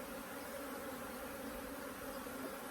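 Honeybees hum on a hive frame as a steady, faint, continuous buzz with a tonal drone, close and unbroken, with no voices.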